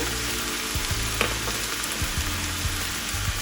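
Minced meat with chopped parsley fries in a pan, a loud, dense sizzle crackling continuously up close, with no one speaking.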